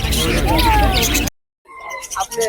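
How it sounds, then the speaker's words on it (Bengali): Budgerigars chirping and squawking at the Hemayetpur bird market, a busy chatter of bright tweets that cuts off briefly, then resumes more faintly. "এখানে অনেক বেশ কিছু বাজিকার পাখি আছে"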